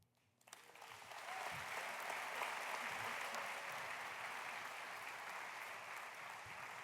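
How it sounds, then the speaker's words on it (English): Audience applause at a youth services fundraising breakfast, starting after a brief pause and building into steady, sustained clapping from a large crowd that holds to the end. "Let's give another round of applause to those incredible youth speakers."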